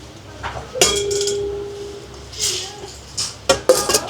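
A frying pan is handled while sorting a bodega mystery sack, giving a few sharp metallic clinks and knocks with a brief ringing tone, close by, among rustling and scattered taps.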